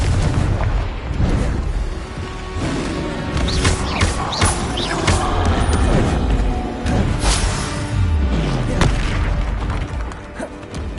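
Repeated Confringo spell explosions in Hogwarts Legacy, dense booming blasts and crashes piling up one after another with heavy low rumble and continuous battle noise throughout.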